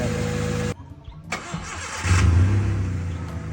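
A car engine cranks, stalls into a short pause, then catches and settles into a steady low idle close by, with no talk over it.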